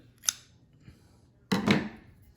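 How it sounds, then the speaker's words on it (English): Scissors cut sewing thread beside a Singer Genie sewing machine, giving one short, sharp snip followed about a second later by a louder, longer snip up close. "you pop that off, and just give it a little snip"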